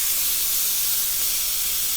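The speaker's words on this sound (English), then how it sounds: "So this iron is absolutely incredible. It's like a dry steam." A steam iron lets off a steady, close hiss of dry steam that holds at one level for about two seconds. No one speaks over it.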